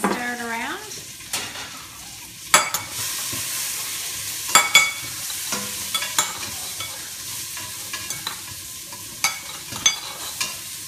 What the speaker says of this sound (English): can you stir it around?